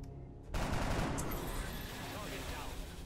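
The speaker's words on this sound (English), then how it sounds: "Come on, Zhang, this is going to be your first shot as an XCOM soldier" A soldier's shot in XCOM: Enemy Unknown (Long War) rings out as a sudden, loud burst of gunfire about half a second in, followed by a sustained, dense roar of shots and impact noise that fills the rest of the clip.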